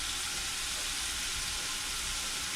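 Bacon, onion and mushrooms fry in a pan with a steady, even sizzle and hiss, close and continuous, with no talking over it.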